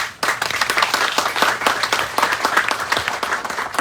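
A crowd claps at a ribbon-cutting ceremony for an assisted living facility. The applause bursts in sharply after a brief pause, then carries on as many distinct, fairly close hand claps at a lively, uneven rhythm.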